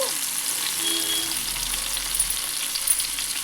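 Tomato pieces fry in a pan for a tomato egg curry, giving a continuous bright sizzle with faint stirring, close and steady with no talking.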